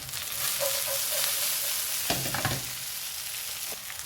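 Lamb chops sizzling on a bed of onions in a pan, a dense continuous frying hiss with a burst of stirring and scraping midway, no speech.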